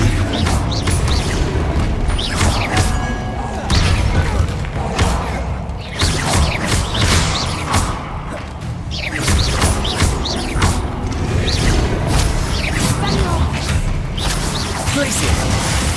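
Spell combat in the Hogwarts Legacy video game: a dense, loud wash of magical blasts, thuds and whooshes as spells like Bombarda are cast, with repeated impact bursts over a steady game soundscape and no speech.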